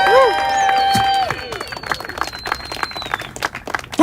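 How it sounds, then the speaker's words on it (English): A crowd at a live political rally in Washington DC claps for a speaker, with scattered applause and cheering after a sustained tone at the start, and voices in the crowd over it. "Everyone give Lee a big round of applause"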